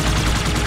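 Rapid gunfire in the video game Halo 2 Anniversary, a loud close burst of repeated shots blending into one continuous rattle for under a second.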